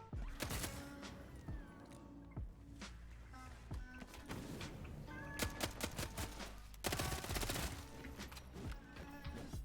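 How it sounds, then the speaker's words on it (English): Gunfire in a multiplayer vampire video game, dense bursts of shots and rapid automatic fire coming in clusters, with loud volleys near the middle and end, heard alone without talk. "I heard gunshots."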